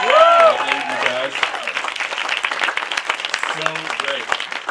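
An audience applauds performers at a house music show, a sustained round of clapping with voices speaking over the beginning and again briefly near the end.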